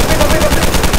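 Rapid automatic gunfire in a horror video game, a loud, dense burst of shots close up, with a voice shouting over it.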